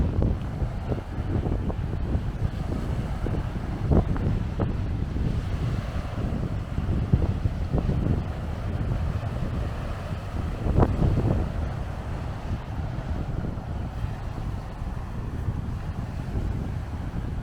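Strong gusts of wind buffeting the microphone outdoors in the Pilbara, Western Australia, a continuous low rumble with irregular thumps and surges throughout, no talking.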